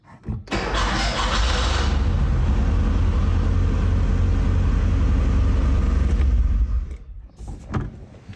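A car engine is cranked and fires using a Hulkman Alpha 85 jump starter, then runs at a loud, steady idle for several seconds before cutting out abruptly, with a few faint knocks afterward.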